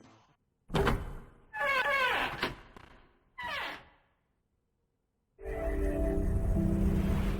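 Several heavy doors in the game 999: Nine Hours, Nine Persons, Nine Doors grind and thunk open in separate bursts, each with a sliding mechanical whine, then a long sustained rumbling hum after a pause.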